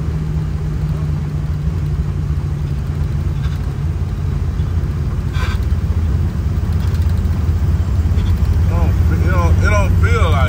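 The engine of a 1975 Chevrolet Caprice donk roars loudly and continuously at full throttle, building slightly toward the end, with voices faintly mixed in.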